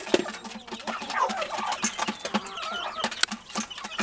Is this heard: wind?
no